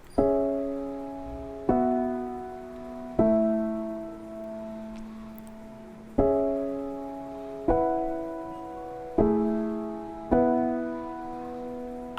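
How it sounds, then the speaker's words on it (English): Gentle mallet-like bell tones ring out in a slow melody over sustained piano chords, each note struck and left to decay, no voices. "the bell melody that I played here that complements the top melody of the piano"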